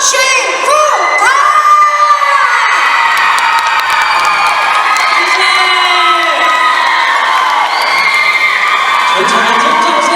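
At an outdoor music concert in Guishan, Taoyuan, a large crowd cheers, whoops and screams continuously, with high shrieks rising and falling over the roar.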